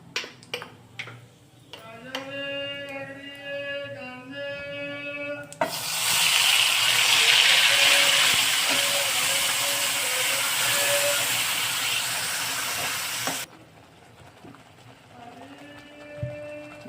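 Dry masala spice mix dropped into hot oil for dal makhani gives a loud, steady sizzle lasting about eight seconds, with a voice talking before it starts and again after it fades.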